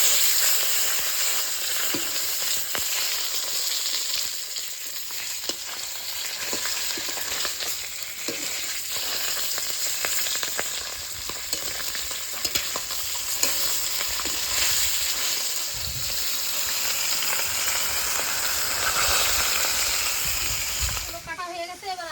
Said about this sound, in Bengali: মাথাটা এক পিঠ ভাজা হয়ে গেছে, এবার এপিঠ ওপিঠ করে ভেজে নেব।